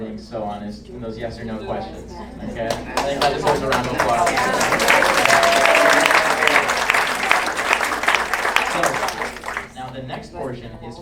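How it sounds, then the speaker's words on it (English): An audience at a candidate forum breaks into applause, building from scattered claps to a full, loud round that peaks mid-way and then tapers off, with voices and cheering mixed through it. "I think that deserves a round of applause."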